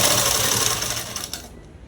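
A sewing machine stitches stiff saree cloth for a collar-neck dress, a fast, dense mechanical rattle running close and steady before stopping abruptly near the end.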